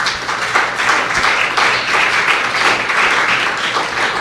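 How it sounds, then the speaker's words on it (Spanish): Sustained applause from a church congregation, a dense, steady wash of many hands clapping that fills the whole stretch at an even level. "¿Por qué no le das un aplauso al Señor?"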